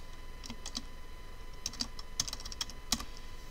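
Keystrokes on a computer keyboard as a command is typed into MicroWorlds EX Logo, in irregular short bursts of clicks, fairly close and moderately loud, with no talking.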